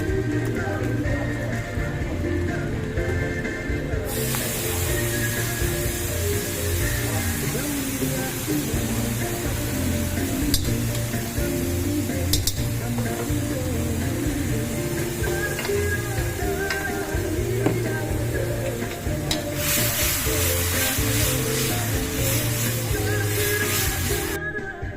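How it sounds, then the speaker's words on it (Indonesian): Fried rice with tripe being stir-fried to order in a wok at a Semarang eatery, a continuous close sizzle with scraping and clattering from stirring, and background voices and bursts of louder frying throughout. "Ternyata nasi goreng ini digoreng dadakan."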